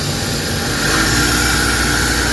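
A Suzuki DA64 engine idles with the air conditioning on and a vibration issue, producing a steady, close, droning hum with a slight rise partway through and no talking.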